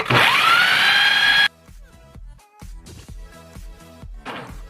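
A kitchen appliance grinds a full sleeve of Oreo cookies in a loud, steady whirring burst for over a second, then cuts off to quieter clattering and rattling as the crushed pieces shift about.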